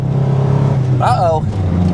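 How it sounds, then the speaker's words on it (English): A car engine laboring from a dead stop under full pull on a slight grade, stumbling around 4,000 rpm with no traction, a steady loud low drone running throughout while a voice breaks in partway. "that's engine stumble, not clutch"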